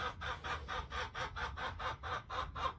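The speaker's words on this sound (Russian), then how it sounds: "Что-то курица сегодня долго квохчет" A farmyard hen clucks in a steady repeating rhythm, about a dozen even pulses at close range with low background rumble and no talk.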